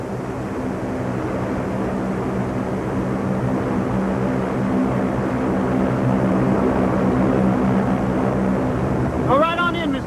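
Airplane engine idling before takeoff, a steady loud drone with a broad rumble and humming tones holding throughout, and a brief voice-like sweep near the end.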